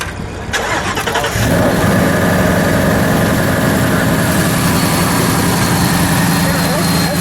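A 2017 Ford Shelby Super Snake Mustang engine cranks and catches, then settles into a loud, steady idle with a deep, even rumble close by.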